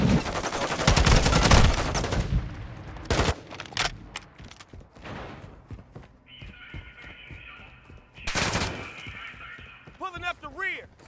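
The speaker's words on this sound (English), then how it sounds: "Taking effective fire!" Call of Duty Modern Warfare II multiplayer combat in Kill Confirmed mode: loud gun bursts open the scene, followed by scattered single shots and later blasts, while in-game voices shout callouts between the firing.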